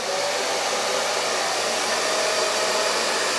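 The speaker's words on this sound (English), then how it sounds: "Now I'm gonna take my blow dryer and just blow dry it." A blow dryer runs continuously on a wig, a loud close steady whoosh with no change in pitch and no talk over it.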